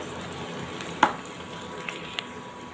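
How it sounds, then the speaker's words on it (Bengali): Sliced onions fry in oil with cardamom, a cinnamon stick and a bay leaf, giving a steady close sizzle broken by a few sharp stirring knocks and pops. "দিয়ে এবার আর একটু ভেজে নেব পেঁয়াজগুলোকে, যাতে গোল্ডেন একটা কালার চলে আসে।"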